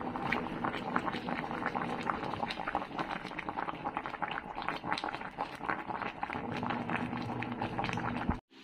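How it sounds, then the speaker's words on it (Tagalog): A pot boils steadily while cooking cassava suman, with dense bubbling and popping that continues throughout before cutting off abruptly at the end. "Kumukulo na."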